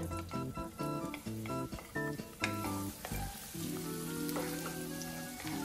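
Garlic dropped into hot oil in a wok for Bicol Express, a dense, steady crackling sizzle that rises sharply and continues at close range, with some rhythmic music in the background.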